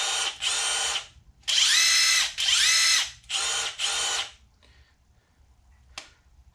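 A Matco cordless impact wrench, model MCL1638HIK2O, fires in five short loud bursts of hammering rattle with brief gaps between them, then goes quiet apart from one faint click near the end.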